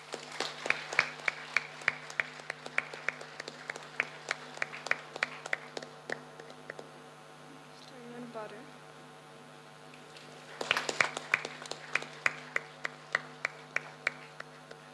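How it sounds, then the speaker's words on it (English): An audience at an awards event claps in two bursts of sharp, scattered handclaps, with a quieter gap between them, all over a constant low electrical hum. "Give a big round of applause."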